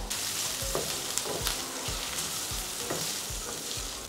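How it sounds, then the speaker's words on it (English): Onions frying in a pan over medium heat, a steady broad sizzle with a few soft clinks and stirring scrapes scattered through, close and continuous. "let's fry up some onions"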